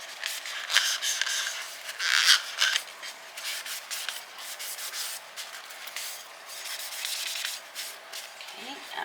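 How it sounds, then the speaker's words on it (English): A cloth wiping excess oil off a surface gives a steady rubbing and scraping texture. Several strokes come close together at moderate loudness, with no speech. "I'm just going to wipe off the excess with a cloth"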